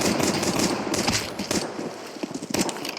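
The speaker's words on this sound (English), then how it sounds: "this kid takes down Remocox quite nicely with a headshot" Rapid gunfire in a Counter-Strike 2 tournament match, dense bursts of shots with clicking and footsteps, mixed with game sound and a commentator talking over it.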